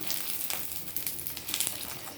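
Papad frying in hot oil makes a dense, continuous crackling sizzle with quick bubbly pops, close up and moderately loud, with no voices over it.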